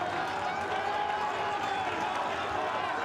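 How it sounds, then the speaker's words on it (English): A crowd at the Henley Royal Regatta rowing races sends up a continuous, fairly distant roar of cheering and shouting, steady and unbroken throughout. "You can hear the crowd."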